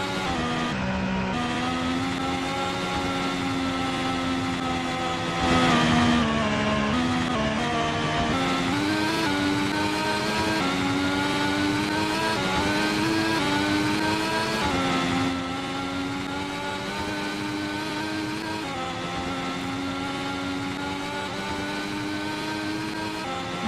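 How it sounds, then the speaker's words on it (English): An Aston Martin's engine in a racing video game drones steadily and loudly, its pitch rising and falling as the car runs through the gears and corners, with no talking over it. "There's an Aston driving."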